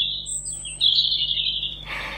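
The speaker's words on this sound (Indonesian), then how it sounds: "Itu suara burung." A single bird gives a clear, high, sustained chirping whistle for about two seconds, close and alone over a faint low hum.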